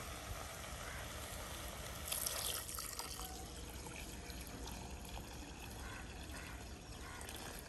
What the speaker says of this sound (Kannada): ಈಗ ನೀರು ಹಾಕುವ